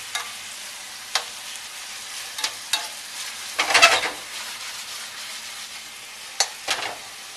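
Garlic sizzles gently in olive oil in a pan, a steady soft frying hiss broken by a few scraping stirs and one louder burst of sizzling as the pieces are moved around.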